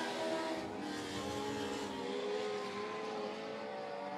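INX Legends race cars roaring around the oval at Monett Motor Speedway, a dense continuous engine drone with overlapping cars close by, steady and loud throughout.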